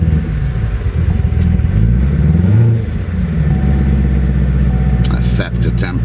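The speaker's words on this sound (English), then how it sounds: "do that so you can hear the exhaust" A Chevrolet Corvette C7 Z06 supercar engine rumbles through its exhaust, a deep, loud, steady idle with shifting revs, heard close up, ending with a few sharp clicks and knocks.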